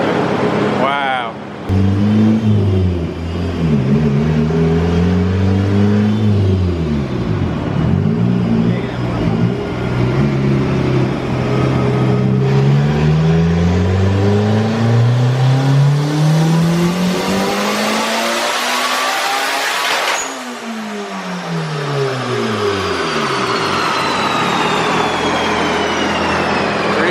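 Turbocharged Honda Integra engine on a dyno, loud and close, revving up through repeated climbing pulls that drop back between gears, building to a screaming peak before falling off, with a turbo whistle and voices talking underneath.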